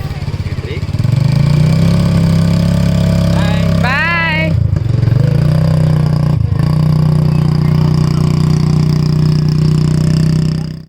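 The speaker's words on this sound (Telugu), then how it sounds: "ఆ బైక్ అతనే స్టార్ట్ చేశారనమాట" A motorbike engine runs steadily during a beach ride at Jampore beach in Daman, giving a loud, constant low hum that dips briefly twice and then carries on unbroken.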